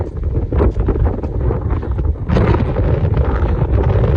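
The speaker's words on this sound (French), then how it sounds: "Le vent il a explosé." Loud, strong mountain wind buffeting the microphone on Sainte-Victoire, a continuous roaring rush with gusts that swell even harder partway through.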